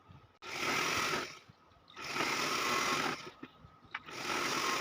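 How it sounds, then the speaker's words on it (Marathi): A sewing machine runs straight stitching lines across a very large nine-by-nine king-size godhadi quilt, in three steady close bursts of rapid mechanical whirring separated by brief pauses, with no talking. "तर याप्रमाणे आपल्याला सरळ टीप मारायची आहे"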